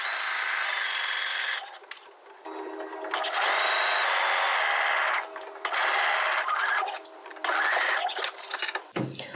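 A sewing machine runs in steady bursts while stitching a 3/8-inch shoulder seam on a slightly bias-cut knit top, with a few short pauses and a handling clatter at the end; no talking.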